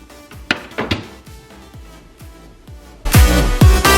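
A food container being quickly washed by hand at a kitchen sink, with clinks and knocks of dish handling, then a loud burst of running tap water near the end.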